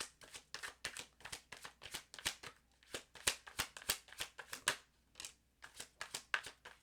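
A large deck of tarot cards being shuffled by hand, with repeated crisp riffling bursts in a quick, steady rhythm, close and clear, with no talking.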